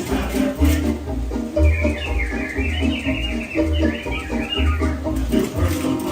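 Animatronic birds in Disneyland's Enchanted Tiki Room sing and chirp in quick warbling phrases over a rhythmic musical backing with thumping low drums, loud and lively.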